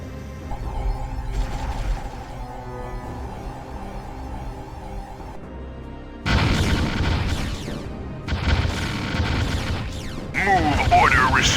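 Gunfire and deep explosions from the Ground Control video game thud and crackle in a steady battle rumble, with heavier bursts arriving in the second half, under clipped radio-style unit voice lines.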